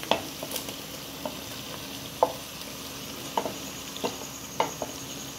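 Chopped tomatoes going into a pan for a chicken karahi, frying with a soft steady sizzle and a few sharp scrapes and taps of a spoon at irregular intervals, close and moderately quiet, with no talking.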